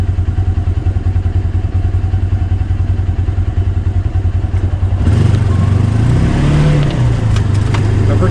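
A Kubota Sidekick 850 utility vehicle engine runs loud and close with a steady rhythmic chug, then revs harder as it pulls away, adding rattling clatter and rising engine drone.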